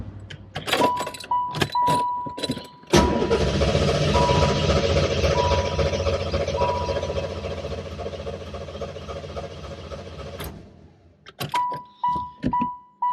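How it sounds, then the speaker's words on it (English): A 1986 Chevrolet Corvette engine cranks steadily for about seven seconds without catching, a loud sustained whirring churn, with a car warning chime pinging before and after. "I'm going to try to start it and see if we get any fuel pressure."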